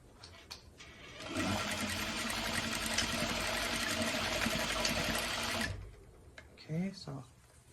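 A sewing machine whirs steadily for about four seconds as it stitches elastic onto a fabric headband, a close, even mechanical buzz that stops abruptly, with brief clicks and a short spoken remark around it.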